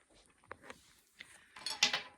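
A spoon stirring a bowl of yogurt with corn, a few soft scrapes and clinks against the bowl building into a brief flurry of clinking near the end, close and quiet.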